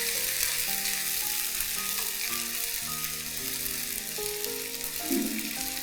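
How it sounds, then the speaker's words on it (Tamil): Spices crackling in hot oil, a dense, steady frying hiss with a faint pattern of tones and a brief louder burst near the end; no voices. "இது போட்டுன்னு அப்படியே பட்டாசு வெடிக்கிற மாதிரி படப்படப்பட"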